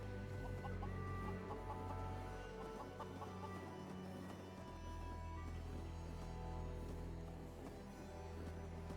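Chickens cluck softly in Fallout 4 at Abernathy Farm, scattered short clucks over a steady low ambient hum, quiet and mid-distance with no talk.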